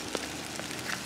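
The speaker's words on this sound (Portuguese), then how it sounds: "É a primeira chuva da temporada aí." Soft first-of-season rain over dry sertão ground, a brief even hiss with a handful of faint individual drop ticks, close by and free of voices.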